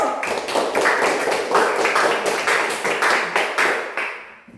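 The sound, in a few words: class clapping for group one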